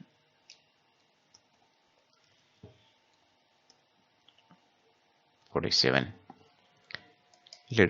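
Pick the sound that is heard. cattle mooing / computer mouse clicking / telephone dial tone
computer mouse clicking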